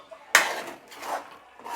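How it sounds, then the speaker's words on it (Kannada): A plate set over a pan of paneer butter masala in a home kitchen, landing with one clear clattering clink followed by faint ringing and light scraping. "ಇದನ್ನು 1-2 ಮಿನಿಟ್ಸ್ ಪ್ಲೇಟ್ ಮುಚ್ಚಿ"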